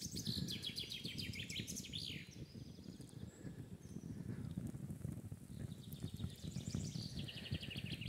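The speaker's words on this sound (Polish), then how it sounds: "Tu, gdzie ptaki ładnie mi ćwierkają, chyba słychać na filmiku" Birds chirp and tweet steadily in dense, overlapping calls in a forest campsite over a constant low background rumble, with no talking.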